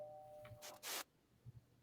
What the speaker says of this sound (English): the doorbell rang on its own.